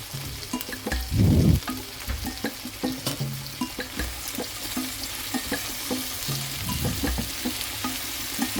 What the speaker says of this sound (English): I'm cooking my tomatoes until they are nice and soft and until they are breaking down